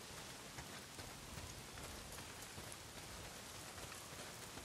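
Steady, dense rain in the video game Days Gone pours down continuously, a constant hiss of drops striking surfaces with no voices or other sounds breaking through.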